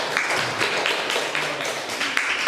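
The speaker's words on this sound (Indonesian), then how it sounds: "tepuk tangan untuk kelompok 3" Classroom students clap for a group in steady, dense applause, many hands close by, continuous and even in level throughout with no talk over it.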